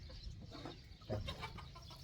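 A hen gives a few soft, short clucks at a distance over a quiet background.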